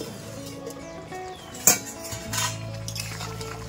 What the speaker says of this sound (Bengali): এবার আমি ঢাকা খুলে দেখবো।